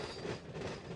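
A train in the Run 8 Train Simulator game rolls under automatic braking, with a steady, broad grinding roar and faint wheel squeal throughout.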